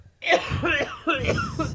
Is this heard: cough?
yes